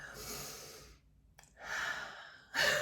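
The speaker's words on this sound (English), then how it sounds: "let's do some breathing exercises" Deep audible breaths during breathing exercises, a long exhale trailing into a short pause, then another strong inhale and a sharp, loud breath at the end, close to the mic.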